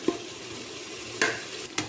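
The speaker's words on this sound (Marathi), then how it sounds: "याच्यातले टोमॅटो असे बारीक करून घ्यायचे" Tomatoes being mashed and stirred in a frying pan while cooking chicken biryani, a soft continuous sizzle broken by a few sharp scraping strokes of the spoon against the pan.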